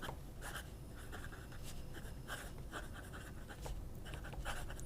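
Fountain pen nib scratching across paper in short strokes, faint and close, with brief bursts of writing separated by tiny pauses.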